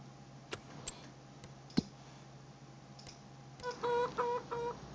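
Chickens cluck on a farm in Farming Simulator 25, a short run of faint clucking calls near the end after scattered soft clicks over a quiet steady hum.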